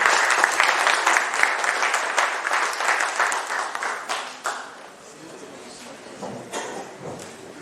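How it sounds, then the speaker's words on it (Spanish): Conference audience applauding a speaker's introduction at an event on nanoparticle measurement equipment, dense clapping that is loud at first, then thins and fades out over several seconds. "démosle la bienvenida con un fuerte aplauso, por favor, a Alicia Reynoso"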